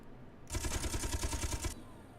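A single sustained burst of rapid ship weapon fire in the Space Engineers video game, about a second long, loud and rhythmic against a quiet background.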